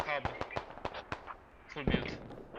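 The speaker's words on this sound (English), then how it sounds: "And mortars landing pretty accurate." Mortar shells land in the tactical shooter Squad during a competitive match, giving several sharp, distant-sounding blasts in quick succession, with a further cluster later on, all under a caster's running voice.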